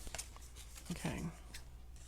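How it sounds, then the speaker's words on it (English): Scissors make a few quick, soft snips while trimming paper for a journal page, faint and close in a quiet room. "I'm going to trim that just a little bit, like that."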